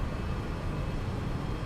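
Steady broadband roar of a Boeing 737-800 engine in the X-Plane 11 flight simulator, a constant loud drone without talk.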